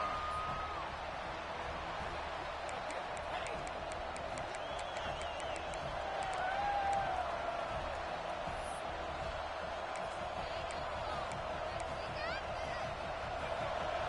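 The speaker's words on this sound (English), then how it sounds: "Listen to the crowd energy here in the early going." A large American football stadium crowd murmurs and roars continuously in the distance, with scattered whistles and shouts rising above the din.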